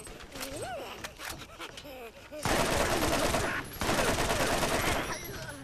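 A machine gun fires in the video game Borderlands in two sustained bursts with a short gap between them. A voice talks before the shooting starts.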